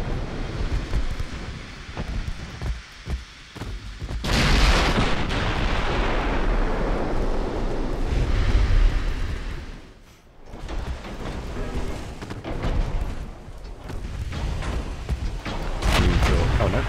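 Battleship main guns firing in Ultimate Admiral Dreadnoughts: repeated heavy artillery booms with rolling, wind-like rumble and surf-like wash between salvos, loud and reverberant.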